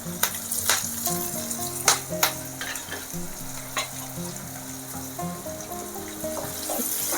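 Chopped fenugreek leaves frying in hot oil for a moringa and prawn curry, a steady soft sizzle broken by sharp clinks and scrapes of a spoon on the pan, close and without talk.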